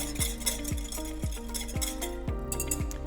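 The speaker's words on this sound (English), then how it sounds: "And then we give it all a whisk." A sesame and chili oil mixture is whisked in a bowl, giving a steady run of ringing clinks about twice a second, close and fairly loud, with no talking.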